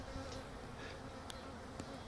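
Bees buzz around a hive in a tree, a faint, steady hum with a few individual insects passing close, brief and quiet with no voices.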